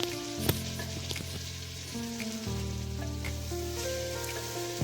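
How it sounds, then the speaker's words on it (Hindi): Chicken fries with mixed vegetables in a pot, a soft continuous sizzle and crackle with occasional stirring clicks and light pops, fairly quiet and close with no talking. "चिकन हम इसमें कर रहे हैं फ्राई"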